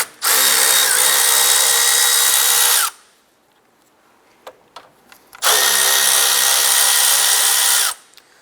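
Two loud, steady whirring bursts from a power tool spinning off 10mm fan bolts on a Nissan Versa, separated by a quiet pause with small clinks.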